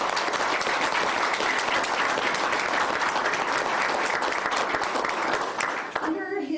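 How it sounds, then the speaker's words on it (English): Sustained, dense applause from an audience at a school board meeting, loud and steady for several seconds before breaking off abruptly, with a voice briefly heard at the very end. "let's give him a round of applause"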